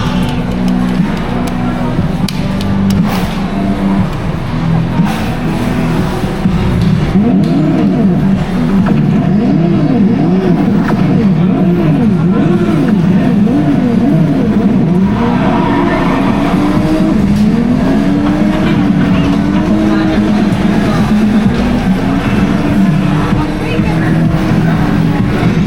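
A Porsche drives past, its engine note rising and falling in loud, close revving sweeps over steady road noise, with voices talking throughout.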